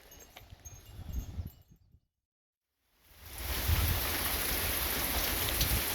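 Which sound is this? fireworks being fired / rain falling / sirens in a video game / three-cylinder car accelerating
rain falling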